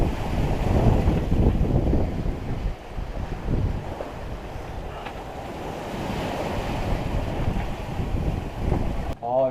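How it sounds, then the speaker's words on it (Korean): Wind roars steadily across a sailing yacht in the Southern Ocean, mixed with the wash of surf and waves around the hull, loud and continuous with no talk. "지금은 어제 밤보다는 바람이 많이 약해져 있습니다."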